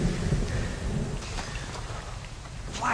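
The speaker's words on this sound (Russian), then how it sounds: "Молния! Гром!" Thunder rumbles loud and close in a storm during a Lego film set in Normandy in 1944, a deep continuous roll with heavy rain hiss running throughout.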